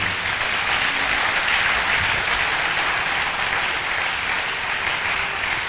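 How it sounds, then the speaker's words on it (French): A Protestant church congregation claps during a Sunday worship service, a sustained wash of many hands filling the room at an even level throughout, with no speech over it. "Si on est béni, acclamons le Seigneur"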